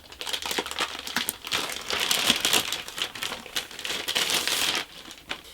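Close, busy crinkling and rustling of packaging as a book subscription box is opened, with bursts of crisp crackles and brief pauses.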